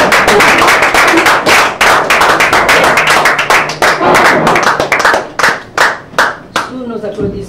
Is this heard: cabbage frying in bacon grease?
no